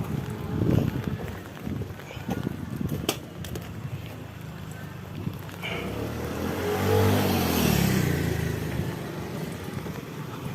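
A motorcycle engine swells from a distance, roars past loudly, and fades away, with scattered clatter and background noise earlier.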